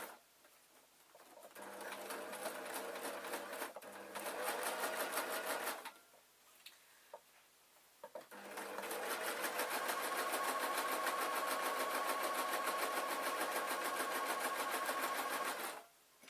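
Sewing machine stitching a pocket flap on a denim skirt, running in two loud, steady bursts with a short quiet pause between them, the motor whirring continuously at close range.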